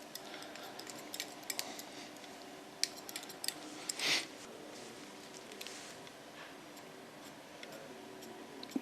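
Scissors snipping hair during a pixie haircut in a salon, heard as quiet, scattered metallic clicks and ticks at close range, with one brief louder brushing rustle partway through.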